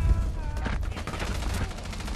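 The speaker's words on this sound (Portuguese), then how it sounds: "O cara acertou 5 tiros no meu peito" Gunfire in Rainbow Six Siege: a dense, steady burst of rapid shots runs through the whole stretch at a loud, close level, with a voice talking faintly underneath.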